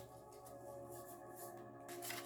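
A deck of tarot cards is shuffled by hand in a quiet room, giving soft, repeated riffling and sliding bursts that stay faint and close, with no talking.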